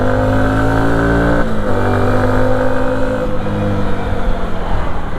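Yamaha WR 125R motorcycle accelerating through gears, the engine and exhaust rising in pitch, dropping at a shift, then climbing again, loud and close with a buzzy, steady delivery.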